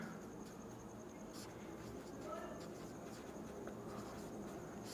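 Writing on a board during a maths lecture, faint scratchy strokes and taps of chalk or marker in short bursts against a quiet room hiss, no talk over it.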